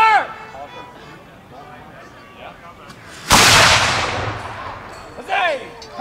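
A single black-powder cannon booms at a Revolutionary War weekend demonstration, one sharp, loud blast with a long rumbling tail, preceded and followed by shouted commands from the crew.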